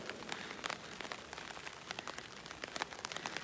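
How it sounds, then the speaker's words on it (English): Steady rain pours down at an outdoor night tribal council, a dense hiss of drops pattering on surfaces with scattered sharper splats throughout, no voices. "the rain has started coming down"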